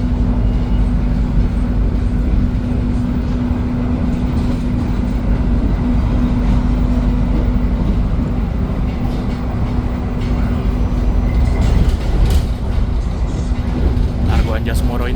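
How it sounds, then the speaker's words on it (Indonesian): Argo Anjasmoro passenger train running at speed on rails near Surabaya, heard from inside the carriage: a steady, loud low rumble with a constant hum and faint rattles throughout, and no speech. "Argo Anjasmoro ini larinya biasa 120 ya, teman-teman"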